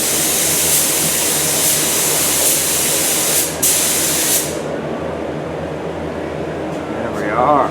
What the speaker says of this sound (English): He's spraying the ashtray and glove box door over there right now.